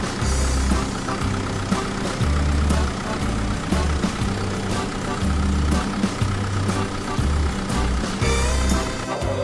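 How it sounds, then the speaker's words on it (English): A tractor cutting grass in a field, its heavy diesel engine droning steadily with a low rumble that rises and falls in pulses as it works, fairly close and continuous with no voices. "Can you see the tractor cutting the grass?"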